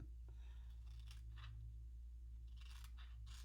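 Scissors snip through paper for a scrapbook layout in several short, quiet cuts spaced unevenly, set against a low steady hum.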